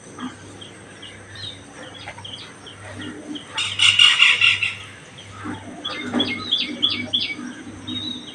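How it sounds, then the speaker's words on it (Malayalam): Morning birdsong outdoors in Kerala: repeated bright chirps and tweets from several birds, with a rooster or hen clucking among them and a soft rhythmic low hum running underneath, moderately close. "രാവിലെ ഇന്നിപ്പോൾ കിളീൻ്റെ സൗണ്ട് കേൾക്കാൻ പറ്റും പക്ഷെ കിളീനെ കാണുന്നില്ല"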